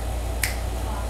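A single crisp finger snap, sharp and close, standing out briefly against a low steady background hum.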